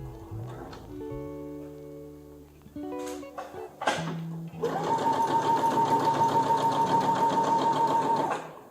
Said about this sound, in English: I'm going to sew the waistband together, and then I'm going to sew it to the waist of my pants